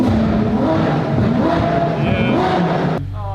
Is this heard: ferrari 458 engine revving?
yes